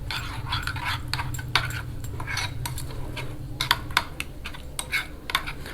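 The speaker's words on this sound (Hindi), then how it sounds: "अब इसको करते हैं अच्छे से मिक्स।" Lemon juice and garlic ginger paste are mixed into a marinade with a utensil in a bowl. The result is faint, irregular clinks and scraping taps over a low steady background hum.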